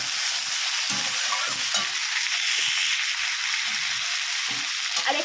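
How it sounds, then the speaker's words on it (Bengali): Potatoes and pointed gourd fry together in a pan, giving a constant bright sizzle over repeated low, thumping stirs and scrapes from the spatula, close and steady, with no talking. "চলো দেখো ভালো করে ভেজে নিচ্ছি আলু আর পটলগুলো একসাথে।"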